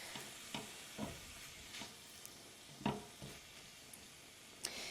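Chicken and dumplings casserole filling being stirred in a pot, a series of soft, irregular scraping strokes spaced about half a second to a second apart, fairly quiet, with no talking.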